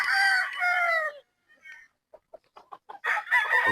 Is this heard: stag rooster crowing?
yes